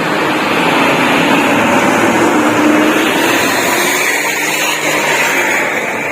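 A continuous loud, broadband roar of a vehicle exhaust, steady and close throughout with no pauses.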